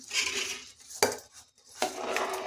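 Soaked rice is stirred into boiling water in a pressure cooker for mushroom biryani, with two sharp metallic clanks of a spoon against the pot between softer scraping and bubbling.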